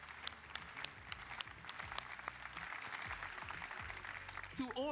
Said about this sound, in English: Go slow clap.